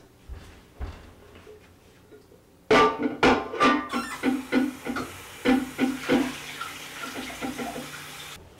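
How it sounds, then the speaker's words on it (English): Dyed bulky superwash yarn rinsed under running water from a tap, a few faint splashes first, then a loud steady gush with rhythmic sloshing as the yarn is worked in the stream, close up with no voices. "I'm going to rinse and rinse and rinse."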